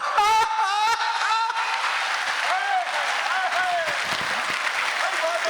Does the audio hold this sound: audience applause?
yes